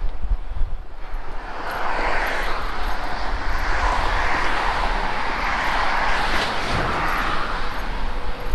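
Traffic roars along the busy A50 road near the Tissington Trail in the Peak District, UK, a continuous loud rush of passing vehicles with some wind buffeting.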